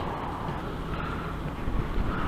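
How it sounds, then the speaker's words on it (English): Heavy wind buffets the microphone outdoors in London, a loud continuous low rumble and roar that swells slightly toward the end, with no talking. "Oh man, this wind."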